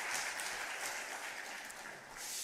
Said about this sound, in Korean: 우리 박수로 한번 축하합시다.